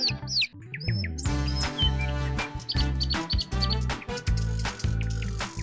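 High bird chirps and tweets in a 2D cartoon scene as a mother bird returns to a nest in a tree, heard over steady rhythmic background music, fairly loud and close.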